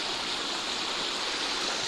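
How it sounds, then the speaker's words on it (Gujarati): Continuous rushing of a stream fed by runoff from rain-soaked fields, an even, bright wash of water sound with no pauses or voices. "ખેતરોમાંથી પાણી વહીને આવે છે"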